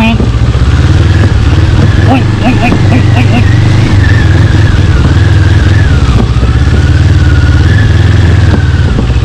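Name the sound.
NK400 motorcycle riding offroad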